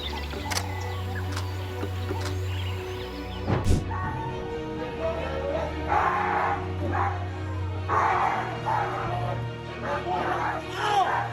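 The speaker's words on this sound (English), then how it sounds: "An owner fails to control their pit bull when another dog walks by, causing the pit bull to suddenly lunge and attack" A pit bull lunging at and attacking another dog, with bursts of barking, yelping and whimpering amid scuffling and a sharp clatter, near and fairly loud.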